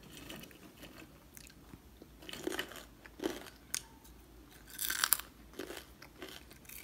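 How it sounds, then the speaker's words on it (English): Fried Bombo Frito, an Angolan snack, is bitten and chewed in several loud, close crunches spaced a second or so apart, with quiet chewing between them and no talking. "It's really crunchy."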